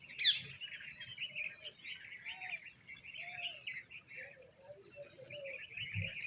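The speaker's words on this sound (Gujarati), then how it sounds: "મસ્ત મજાના પોપટ અત્યારમાં બોલે છે।" Parrots call from a tamarind tree outdoors, sharp chirps and squawks scattered at a moderate distance over a quiet background with faint insect buzz.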